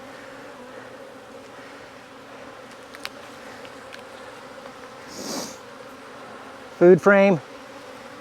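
Honeybees in a nuc hive make a constant soft hum throughout, close and even, with a short spoken phrase near the end and a brief rustle partway through.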